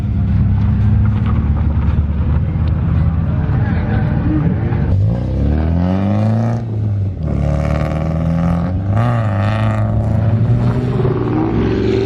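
A Nissan 240SX with a freshly TIG-welded full roll cage drifts hard, its engine revving loud and steady, the pitch sweeping up and down through repeated throttle bursts across the whole run.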